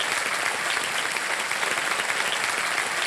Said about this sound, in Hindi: तालियों के साथ इनका स्वागत हो जाए जोरदार।